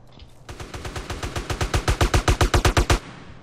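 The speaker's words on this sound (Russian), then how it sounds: "Сейчас мы будем по всем стрелять." A long burst of automatic gunfire in GTA San Andreas Multiplayer, about twenty rapid evenly spaced shots that grow louder and end abruptly, heard close and with no talking over them.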